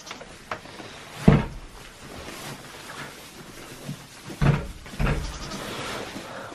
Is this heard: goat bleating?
yes